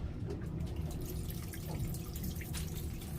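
Raw water gushing under pressure from a boat's through-hull intake, a steady, dense splashing flow that runs continuously without a break and stays close and even throughout.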